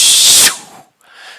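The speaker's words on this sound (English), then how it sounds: "the first breath is going to be an exhale that sounds like this" A sharp, forceful exhale bursts out loudly for about half a second, then tails off, followed by a brief pause and a softer breath of air.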